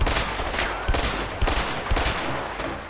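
Rapid gunfire from the video game A Way Out, dense bursts of shots cracking over a steady loud roar of in-game action, several sharper reports standing out near the listener.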